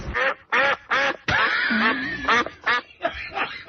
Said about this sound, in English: Sounds like a duck to me, right?